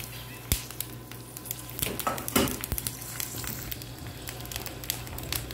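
Pork rinds fry in a pan, giving a soft, continuous sizzle broken by scattered sharp pops and crackles, close by with no talking over it.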